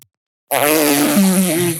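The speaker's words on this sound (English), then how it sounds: "The corpse farts mournfully." A long, droning fart sounds close and loud after a brief silence, holding a wavering low pitch for over a second before dipping at the end in a mournful tone.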